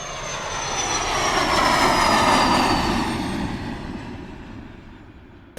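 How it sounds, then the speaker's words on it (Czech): A fixed-wing passenger airplane lands, its engine roar swelling to a loud, broad peak before slowly fading as it decelerates, heard alone without talk. "Když letadlo přistane,"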